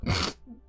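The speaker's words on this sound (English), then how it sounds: "I'm sneezing nonstop." A single sharp human sneeze bursts out close by, followed by a faint breathy tail.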